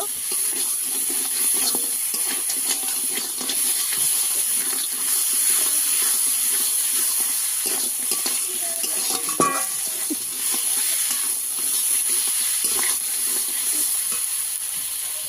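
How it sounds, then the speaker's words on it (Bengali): Sea crab fries in a pan with turmeric powder, giving a steady close sizzle with faint scraping as it is stirred, no voices over it. "দিয়ে দেবো হলুদ গুঁড়ো, দিয়ে ভালো করে কাঁকড়াটাকে কষিয়ে নেব।"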